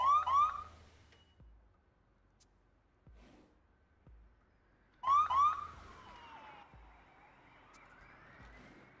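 Ambulance sirens in the hospital-management video game Project Hospital sound in two separate rising, warbling electronic bursts, each fading away, with quiet gaps and no talking.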